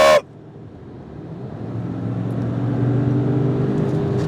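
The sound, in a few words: supercharged car accelerating hard in first gear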